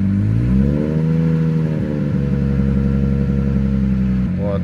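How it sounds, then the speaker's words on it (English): A car engine idles with its headlights switched on, its steady low harmonic drone wavering and shifting in pitch as the idle hunts, close and loud, with a brief dip near the end. "So I just turned on my headlights and yeah, it starts idle hunting again."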